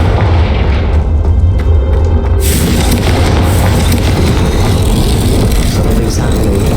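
A Confringo fire spell explodes in Hogwarts Legacy, a heavy, loud booming rumble that swells into a broader, brighter roar partway through and stays sustained to the end.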